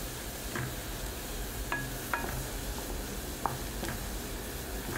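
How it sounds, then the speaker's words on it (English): A cooking mixture in a pan is stirred and mashed against the pan's side almost nonstop, giving a steady close scraping hiss with a few sharp utensil clicks scattered through it. "stirring pretty much the whole time, and kind of mashing it against the side"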